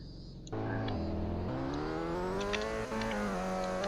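A car engine roars to life and climbs steadily in pitch down Mountain Shimoku in Roblox Midnight Racing: Tokyo, with brief dips at gear shifts, loud and close with no talk.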